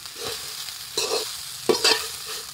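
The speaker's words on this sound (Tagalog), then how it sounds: "Sangag tayo ng kanin." Rice being stir-fried in a pan for Filipino garlic fried rice, a steady low sizzle broken by a few louder scraping stirs of the spatula, close and without any voices.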